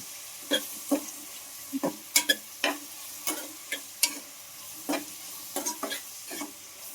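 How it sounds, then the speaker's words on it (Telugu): Onion pieces sauté in a pan over a low, soft sizzle, with sharp spoon scrapes and taps coming at an irregular rhythm, close and alone without speech. "ఉల్లిపాయ ముక్కలు బాగా హల్కీలు పెట్టి మగ్గిచ్చేస్తున్నాను"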